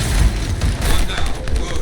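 Dense gunfire and booming blasts as turrets are shot and blown up in the action game Anthem, continuous and loud throughout.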